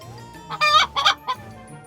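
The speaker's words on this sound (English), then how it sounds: "Surprise! It's a hen." A hen clucks in a short run of three or four loud, bright clucks, close and with nothing else heard.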